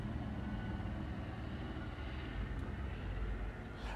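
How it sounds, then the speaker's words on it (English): A helicopter passes overhead as a continuous low rumbling drone with broadband engine and rotor noise, steady and moderately loud throughout with no voices. "That was not a police helicopter."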